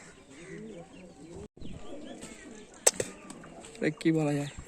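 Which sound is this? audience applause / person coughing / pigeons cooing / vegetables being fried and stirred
pigeons cooing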